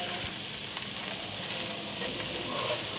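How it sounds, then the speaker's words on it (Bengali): Okra fries in a pan with a steady, dense sizzle that holds at an even level throughout while it is stirred, with a few faint scrapes and no voices. "ভেন্ডিটা আমি নেড়ে দিচ্ছি"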